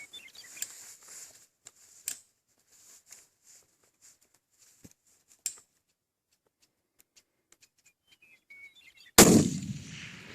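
A single loud rifle shot, fired from a rifle resting on a bipod with Fang feet, cracks near the end after several seconds of faint clicks and handling noises, then rings out in a decaying tail.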